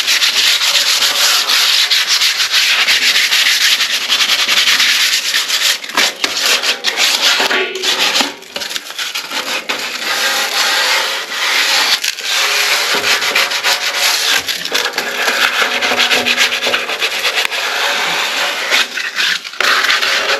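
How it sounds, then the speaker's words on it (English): A radiator being rubbed down with fine 180 grit sandpaper, a steady, close, continuous abrasive scratching that runs throughout with brief changes in stroke and no talking. "with your sandpaper, give your radiator a good rubbing down"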